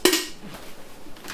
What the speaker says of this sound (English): now I just put the coffee pot in the coffee maker